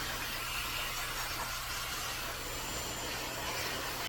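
A steady, loud whooshing hair dryer hum runs continuously with an even airy roar and no talking.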